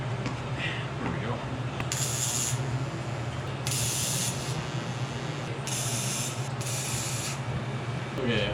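Tack welding on a 3-inch turbo exhaust pipe, a steady close electrical welding hiss with several louder bright bursts of spatter, roughly four short spurts across the stretch, over a constant low hum.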